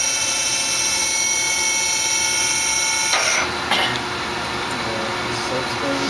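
A Tsugami BS-20BII CNC Swiss lathe running with a steady high machine whine and hum, its pitch shifting partway through as the spindle speed changes, with faint talk in the background.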